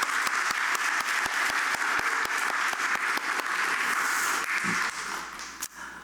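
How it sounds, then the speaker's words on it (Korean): A congregation applauds to encourage middle-school students at the opening service of their church retreat, a dense, steady wash of many hands clapping throughout, loud and close, fading out near the end. "우리 친구들 힘내라고 우리 박수로 한번 격려하겠습니다"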